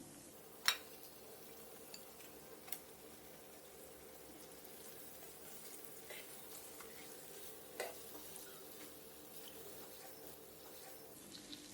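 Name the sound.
fish frying and stirring in masala in a pan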